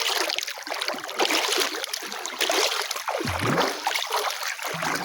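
Choppy sea waves wash and splash around a small boat, a steady broad rushing of water close by that swells and eases throughout, with no voices.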